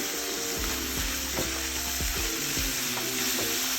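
Jackfruit curry is stirred in a pan over a high gas flame, with a continuous loud sizzle and repeated scraping strokes of a spatula against the pan at an uneven rhythm.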